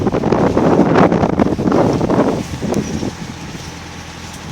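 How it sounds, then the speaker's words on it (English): Strong wind buffets the microphone beside a canal, a loud broadband roar that gusts hardest in the first half, then eases to a steadier, lower rush. "Oh, that wind's strong."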